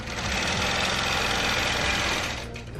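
A longarm quilting machine stitches fabric in one loud, continuous, even buzz at close range that fades slightly at the end, with no voices.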